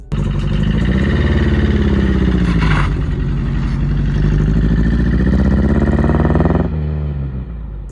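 Opel Kadett engine revving loudly and steadily for about seven seconds, a sustained throaty drone with brief clatter, then easing off near the end.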